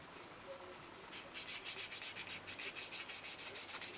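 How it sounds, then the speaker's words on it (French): Sandpaper rubbing on a part of a Tamiya 1/24 Ford Mustang GT4 scale model kit, in quick regular back-and-forth strokes, close and steady after a quiet start. "Alors on ponce. En maquette on ponce énormément."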